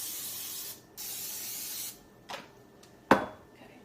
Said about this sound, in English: Spray the waffle maker.